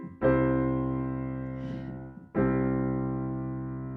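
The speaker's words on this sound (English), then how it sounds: "that's the sound of a major chord." A major chord in just tuning is struck and rings out, fading, then struck again after a short pause; bright sustained keyboard tone, fairly close.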